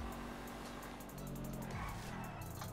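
A fast car in Grand Theft Auto V, modded with the Lamar's Custom Classics business mod, drives with a steady engine drone and shifting pitch, faint and continuous, with a brief squeal-like rise near the end.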